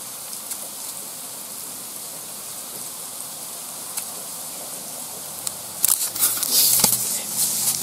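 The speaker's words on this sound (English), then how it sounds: "yeah, it's raining pretty good now." Steady rain falling outdoors, a constant hiss with a louder, denser burst of splashing near the end, during a house fire next door on a calm, nearly windless day.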